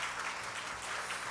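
A congregation claps together at a Sunday church worship service, a steady, dense wash of applause that fills the whole moment with no voices on top.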